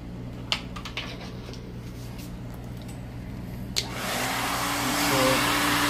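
A hair dryer roars into a steady, close blowout of the back section of a client's hair during a silk press in a salon, starting after a few quiet clicks and staying loud and even to the end.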